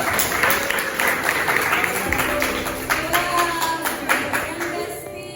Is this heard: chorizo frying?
no